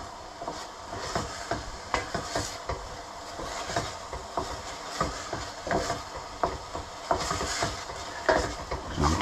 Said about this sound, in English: Just keep stirring and keep stirring so that it doesn't catch, but the onions